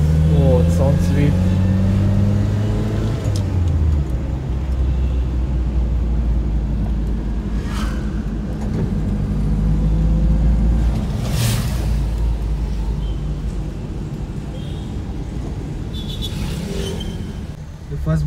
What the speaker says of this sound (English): Oh, your car sounds so sweet.